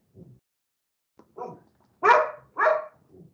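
A dog barks several times indoors at a podcast recording, with two loud close barks following a few softer, quieter woofs and no talking.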